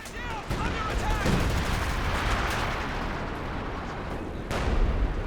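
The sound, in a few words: artillery and machine gun fire in video game Company of Heroes 2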